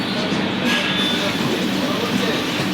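The Howrah–New Delhi Express pulling into a railway station, heard as a loud, continuous rumble of the train with indistinct background voices mixed in.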